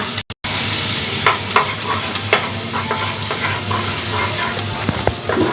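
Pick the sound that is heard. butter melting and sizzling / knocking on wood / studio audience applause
butter melting and sizzling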